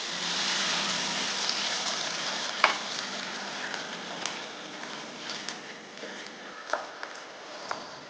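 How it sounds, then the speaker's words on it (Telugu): Water is poured into chicken curry masala frying in oil, producing a strong hiss that settles into softer sizzling with scattered pops and crackles, close by. "దీనికి సరిపడని నీళ్ళు పోసుకోవాలి."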